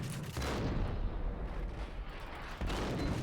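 Heavy, continuous gunfire in Max Payne, dense and booming with overlapping shots and rumbling blasts, loud and close throughout.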